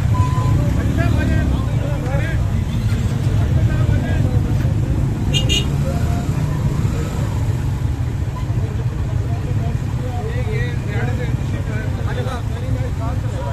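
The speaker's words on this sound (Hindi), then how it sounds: "ये मोटरसाइकिल जरा बंद कर दे 2 मिनट" A motorcycle engine runs at a steady low idle nearby at an outdoor mountain day celebration, its rumble continuous throughout, with faint voices in the background.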